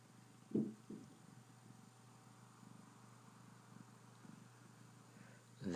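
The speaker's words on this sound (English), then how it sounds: "This is the sound of the cat purring like a race car." A cat purrs softly and steadily up close, a low continuous rumble with a couple of brief louder rustles.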